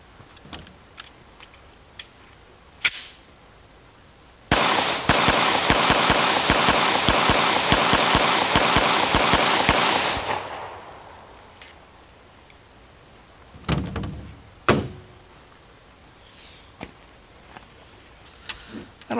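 A Glock pistol fires a few sharp isolated shots, then a long dense burst of rapid cracks and rattling for several seconds, followed by a couple more scattered reports, outdoors at a ranch.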